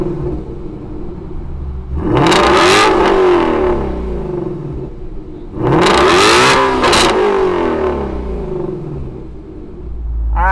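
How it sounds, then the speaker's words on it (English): A 2019 Ford Shelby GT350 sits idling with a deep, loud rumble, then its engine is blipped twice in strong, close revs that rise and fall back to idle, with no talking. "Let's go ahead and fire up this GT350."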